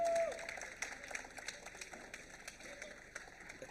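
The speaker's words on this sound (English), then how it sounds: "So a huge round of applause" Audience at a padel tournament draft event in Pakistan gives a round of applause, steady scattered clapping at moderate distance, fairly faint, with a voice briefly at the start.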